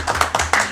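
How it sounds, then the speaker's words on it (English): A few people at a committee meeting clap briefly after a leadership vote, a short scattered burst of hand claps nearby. "Feel like we ought to clap."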